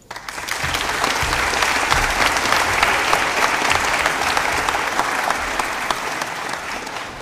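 A graduation audience at an international school bursts into sustained, loud applause after a speech, dense clapping holding steady for several seconds before tapering slightly.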